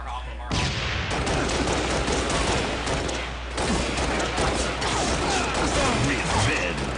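Dense, continuous gunfire from a multiplayer shooter video game, rapid body-shot bursts crashing together loudly and nearly without pause, with a voice talking over the barrage.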